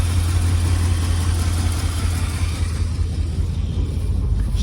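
A 1978 GMC truck engine, restarted after sitting for 17 years, idles with a steady low rumble and slight uneven pulsing, close and continuous without talk.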